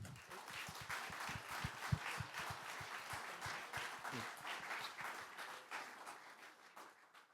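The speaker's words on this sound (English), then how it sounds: "Clap it up." Audience applause after a talk, beginning with sharp, close claps and swelling into dense, continuous clapping that slowly thins and fades.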